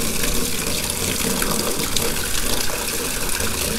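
An Active Aqua 550 pond pump rated 529 GPH pushes water through a hose into a container, making a loud, steady gushing and splashing that runs continuously without pause.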